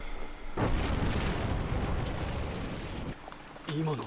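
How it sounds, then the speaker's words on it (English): A broad, heavy explosion roars from an Attack on Titan anime episode, a sustained rumbling blast lasting a few seconds before tapering, followed by a brief tonal sound. "They heard the explosion."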